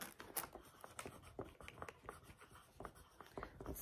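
Chalk or marker writing a word on a board in a classroom, a series of short scratchy strokes in quick uneven rhythm, close and fairly quiet, with no talk over it.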